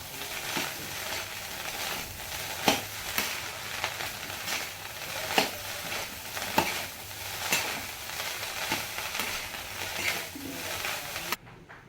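Homemade fried rice with a fried egg is stirred in a hot pan. A spatula scrapes and clinks in an uneven rhythm over steady sizzling, close and fairly loud, with no talking.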